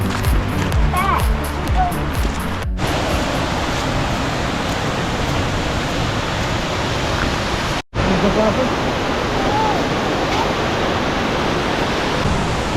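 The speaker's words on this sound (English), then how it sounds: "We found the waterfall." A waterfall near hidden caves rushes in a loud, constant roar close by, with faint voices now and then beneath the water.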